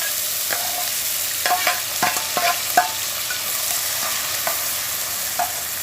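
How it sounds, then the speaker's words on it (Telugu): Small onions fry in oil left in a pan after eggs, giving a steady soft sizzle while a spoon taps and scrapes the pan in irregular clusters of clinks. "ఉల్లిపాయలు వేస్తున్నాను నూనె అదే సరిపోతుంది కదా"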